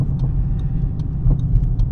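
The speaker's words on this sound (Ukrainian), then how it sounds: "Набираю швидкість, включаю другу передачу, правий поворотничок, бо мені направо" A car engine hums steadily from inside the cabin as the vehicle gains speed and is shifted into second gear, with no talk over it.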